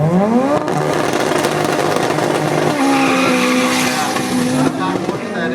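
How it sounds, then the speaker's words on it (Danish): A Toyota MR2 and a BMW 3 Series Cabriolet race side by side on a track with loud engine roars that climb in pitch through gear changes, along with some tire noise and a commentator talking over it. "Venstre spor Toyota MR2, det er Lasse Petersen"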